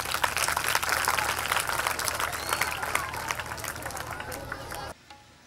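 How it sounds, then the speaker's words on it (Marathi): A crowd of children claps at a school gathering, a dense, continuous patter of applause that runs for about five seconds before stopping abruptly. "मुलांच्या टाळ्या खूप कमी येत आहेत"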